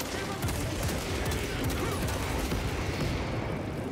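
Sustained minigun fire in Warhammer 40K: Space Marine 2, a dense unbroken roar of rapid rounds mixed with explosions and battle noise, loud and constant for the whole stretch.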